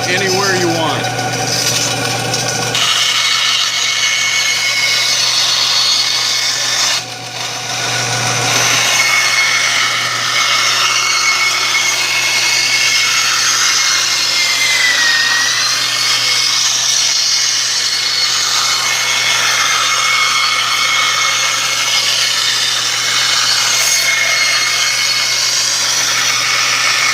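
A bandsaw hums steadily while cutting a wooden circle on a shop-made circle jig, with a constant motor drone, a rasping blade in the wood and a brief dip partway through.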